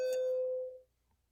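A school bell rings during the lunch hour with one clear, steady tone that holds briefly and then cuts off into near silence, faint and heard on its own.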